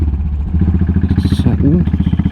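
A Royal Enfield Continental GT motorcycle pulls away in first gear, its loud, close engine throbbing in a fast, even pulse that climbs briefly.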